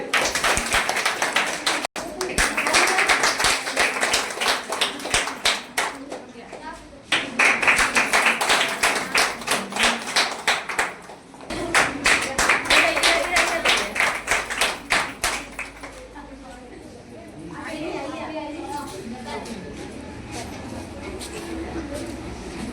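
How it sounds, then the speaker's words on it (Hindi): Audience clapping loudly at an International Women's Day event, dense rapid applause in several long bursts with brief pauses, a speaker's voice heard between and over the claps. "बहुत सुंदर, जोरदार ताली।"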